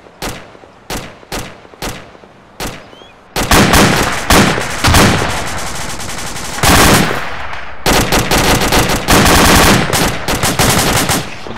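Automatic gunfire in the ArmA 2 ACE military shooter: a few spaced single shots, then loud sustained bursts of rapid rifle and machine-gun fire rattling close by, with short pauses between volleys.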